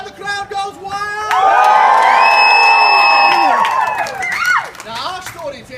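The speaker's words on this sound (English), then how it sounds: "And the crowd goes wild!" An audience at a lively outdoor comedic stage show of Romeo and Edna bursts into loud cheering, whooping and shouting, a sustained swell of excited voices that rises sharply and then tapers off.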